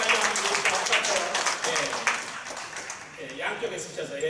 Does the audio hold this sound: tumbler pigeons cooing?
no